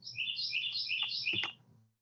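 A very loud bird calls outside a window, a rapid series of high, bright chirping notes lasting about two seconds, close and clear against quiet background hum.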